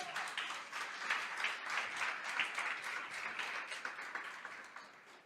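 Church congregation applauding during a worship service, steady mid-distance clapping from many hands filling the space for several seconds, gently swelling and fading without speech.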